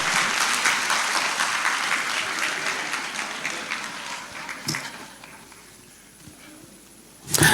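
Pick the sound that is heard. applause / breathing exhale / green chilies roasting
applause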